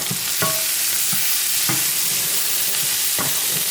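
Food sizzles steadily in a frying pan while a small jack-o'-lantern spatula stirs it in a few distinct scraping strokes, close up and with no voices.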